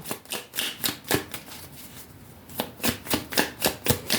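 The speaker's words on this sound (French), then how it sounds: "hop, j'en fais retourner toutes mes cartes" Cartomancy cards being turned over and laid down during a nine-card reading, a run of crisp snapping flicks close by, pausing briefly before another steady series of card slaps.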